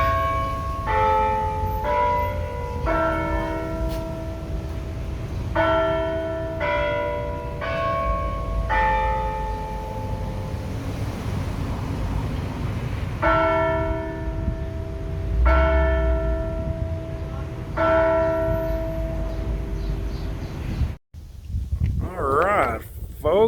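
Church bell in a clock tower ringing out a series of clear, resonant strikes in uneven groups, fairly loud with a long ringing decay, over outdoor background noise and some talking toward the end.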